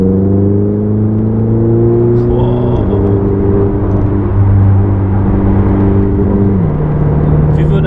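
Ferrari 488 GTB engine pulling hard while driving at speed, a loud, steady harmonic drone with gear-change dips in pitch, close and continuous throughout with no talk over it.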